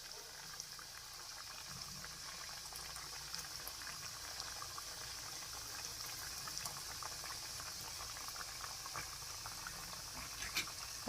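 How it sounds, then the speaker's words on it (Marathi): Kothimbir wadi shallow-fry in oil with cumin over a medium flame, giving a soft, steady sizzle with scattered small crackles and no talk. "आता हे मी मीडियम गॅसवर तळून घेणार आहे."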